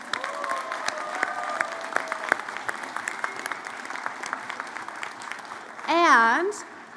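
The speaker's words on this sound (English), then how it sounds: "Huge round of applause for them." Sustained audience applause fills the hall at a college convocation, a dense steady patter of many hands with a brief louder swell near the end, as voices talk over it.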